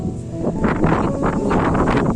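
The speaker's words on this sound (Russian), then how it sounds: "Нифига себе ветер" Strong wind roars and buffets steadily in a garden, a broad rushing noise with gusty swells and no voices.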